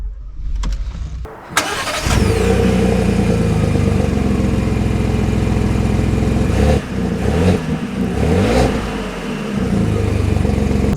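A 2024 Ford F-150 STX with the black appearance package starts up after a few brief clicks, its engine catching with a sharp burst and settling into a loud, steady idle with slight revs, heard close and without talk.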